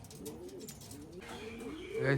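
Soft, low cooing of a young pigeon in a wavering, repeated pattern, with a faint hiss behind it and a louder burst near the end.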